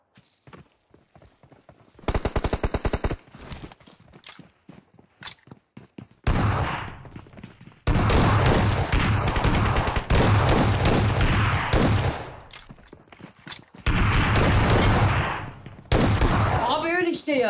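Automatic gunfire in PUBG Mobile rattles in loud, dense bursts: a short volley, then longer sustained strings of rapid shots separated by brief pauses, with faint footsteps in the quieter gaps.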